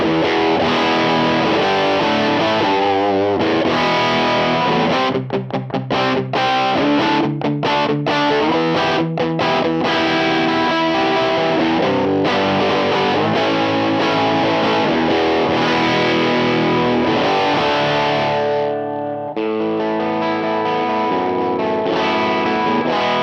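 Electric guitar played through a UAFX Lion '68 Super Lead amp pedal with some room sound, loud and distorted, with strummed chords, choppy stabs and sustained riffs continuing for the whole stretch.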